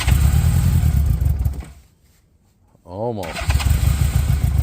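A 1981 Honda Goldwing motorcycle engine cranks on a cold start after six months of sitting. It gives loud rough churning bursts, then a near-silent pause, then a rising whir and cranking again, with one brief spoken word.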